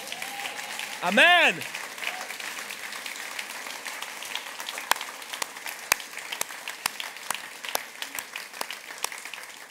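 Church congregation clapping and praising during a service, steady applause throughout, briefly under a single spoken voice near the start.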